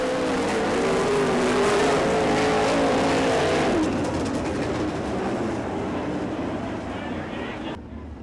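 Dirt-track race cars roar past together at a local speedway, a loud sustained engine drone with shifting pitch that gradually fades as the pack moves away, ending in a sudden drop.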